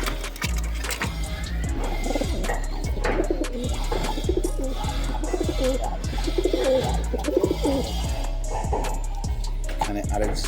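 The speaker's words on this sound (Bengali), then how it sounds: "কবুতরের ঝগড়া দেখতেছেন আপনারা" Pigeons cooing and squabbling close by, repeated low throaty coos in uneven bursts with wing flutters and scuffling, loud and continuous over a low steady hum.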